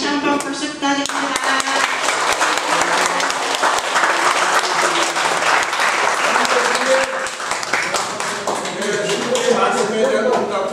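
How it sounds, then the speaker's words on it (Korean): A congregation applauds during a Catholic Assumption Day Mass and annual retreat, loud continuous clapping from many hands with crisp individual claps audible, some voices mixed in underneath. "강해주신 우리 시민들께 다시 한번 박수 부탁드립니다."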